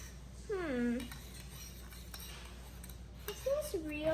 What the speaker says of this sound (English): So I'm just gonna mix it up with a spoon.